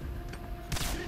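A grenade blast in the video game Singularity, a sudden loud burst of noise that cuts in about two-thirds of the way through and stays rough and dense to the end, over a low rumbling game background.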